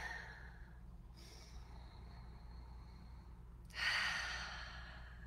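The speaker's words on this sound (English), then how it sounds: "take a couple of deep breaths" Slow, deep breaths taken during a guided relaxation exercise, a quiet airy inhale and a louder exhale near the end, soft and close over a low steady room hum.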